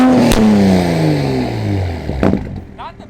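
A 2020 Toyota Supra engine revs with its exhaust flaps closed in normal mode, pitch falling steadily as the revs drop, followed by a couple of sharp mechanical clicks and a quieter tail.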